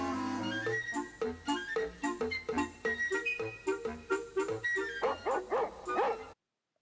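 A cartoon dog barks and yips repeatedly in a steady rhythm in a Dingo Pictures animated film, with a few whimpering yelps near the end, close and clear before cutting to silence.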